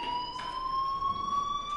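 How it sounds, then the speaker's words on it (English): Steady, piercing electronic fire alarm tone with bright overtones, rising slightly in pitch and sounding continuously inside a PS4 video game, loud and unbroken with no speech. "Hey, do you hear that fire alarm?"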